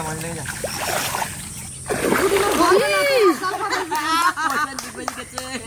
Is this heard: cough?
no